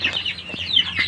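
Domestic chickens on a poultry farm, close soft clucks and short chirps repeating in quick bursts, with no talk over them.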